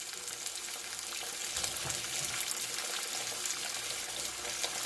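Salt-and-peppered cod fillets searing in two tablespoons of olive oil in a pan, a soft, continuous crackling sizzle at low level with faint scattered pops.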